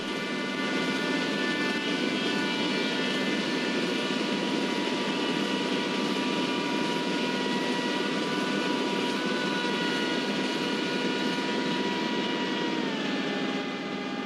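A Rajdhani Express hauled by an electric locomotive overtakes an Antyodaya Express on Indian rails, a steady loud broadband roar with sustained tonal hums holding throughout, no voices.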